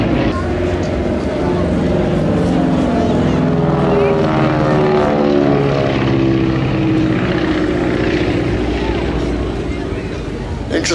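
Beech 18 propeller planes of the Swiss Classic Formation fly past at the Scottish International Airshow 2018, a loud, steady droning roar with shifting tones, heard under an announcer's commentary.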